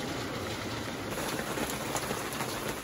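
Torrential rain pounds on a narrowboat in a loud, dense, continuous hiss of drops hitting the hull and roof up close, with no talking.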